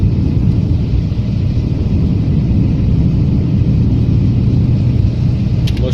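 A car drives toward a parking lot near Knittelfeld, Austria, with a steady low engine and road rumble heard from inside, continuous and fairly loud, with no talking.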